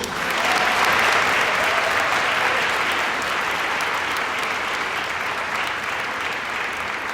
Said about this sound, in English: So if we could give everyone a round of applause, please.